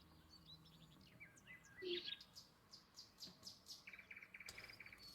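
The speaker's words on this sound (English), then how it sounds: "And there's some really fucking noisy birds for nighttime." Faint night ambience played as background during a tabletop game, with busy birds chirping and tweeting in quick repeated bursts over a low hum, a few insect-like trills mixed in.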